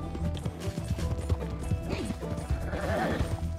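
A horse gallops in Red Dead Redemption 2, a steady run of quick hoofbeat thuds at moderate volume with gear and ambient game sounds mixed in.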